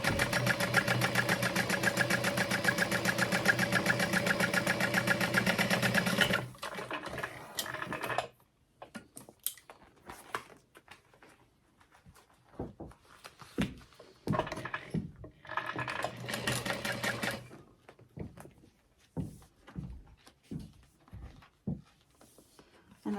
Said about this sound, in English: sewing those seams down